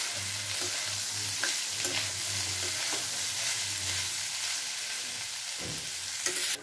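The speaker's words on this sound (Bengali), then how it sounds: "দিয়ে ভালো করে ভেজে নেব আমলকিটা।" Amla gooseberries sprinkled with black salt frying in a wok, giving a continuous crackling sizzle with intermittent scraping stirs and a low steady hum beneath.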